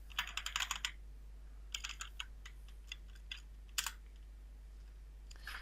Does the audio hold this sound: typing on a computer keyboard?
yes